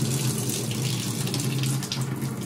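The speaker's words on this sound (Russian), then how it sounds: "Открываем кран горячей воды и спускаем воздух." Hot water running steadily from an opened tap in a domestic plumbing setup with a boiler, a continuous broadband rushing hiss with a low hum underneath, close and fairly loud.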